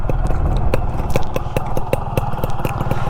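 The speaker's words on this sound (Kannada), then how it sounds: "ಇಂಜಿನ್ ಸೌಂಡು ಅಷ್ಟೇ ಏನು ಸ್ಮೂತ್ ಆಗಿದೆ." A restored Yamaha RX two-stroke motorcycle engine idles close by, a steady loud putter with an evenly spaced popping rhythm from its exhaust, heard alone without talk.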